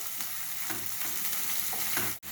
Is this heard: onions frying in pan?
yes